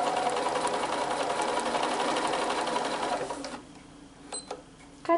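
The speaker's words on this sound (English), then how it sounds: "I'm going to lower my presser foot and I'm going to stitch directly on that marked line" Sewing machine stitching along a marked line on a quilt block, a rapid even whirring chatter for several seconds that stops abruptly, followed by a few faint clicks and small handling noises.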